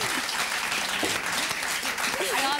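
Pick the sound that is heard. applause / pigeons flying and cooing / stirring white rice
applause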